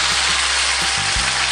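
Tofu longganisa sizzles loudly in hot oil in a pan, a dense continuous frying hiss with faint low knocks underneath.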